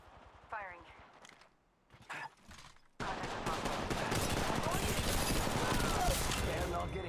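Apex Legends Mobile gunfire on Kings Canyon: after brief quiet moments and short bursts, a heavy continuous barrage of rapid shots erupts and runs to the end, loud and dense, with brief speech early on.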